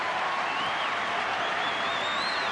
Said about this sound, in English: And the big crowd here, sitting in brilliant sunshine.